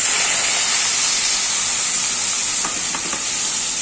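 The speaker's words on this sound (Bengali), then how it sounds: "আমার তেলটি গরম হয়ে গেছে এখানে আছে করলা আলু পেঁয়াজ আমি ভাজি করব" Bitter gourd, potato and onion frying in hot oil in a pan, a loud, steady, close hiss of sizzling with faint stirring clicks near the end, no talking.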